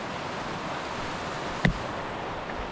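The South San Joaquin River rushes steadily as a broad, even wash of flowing water, with a brief sharp knock partway through.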